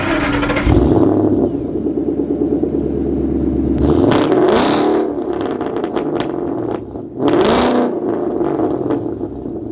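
A 2011-2014 Ford Mustang GT with stock headers and an off-road X-pipe rumbles and then revs sharply several times, loud exhaust roaring up and falling back between bursts.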